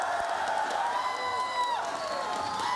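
A large arena crowd at a Call of Duty esports grand final cheers and claps steadily with scattered whoops, a sustained roar beneath a person speaking over it.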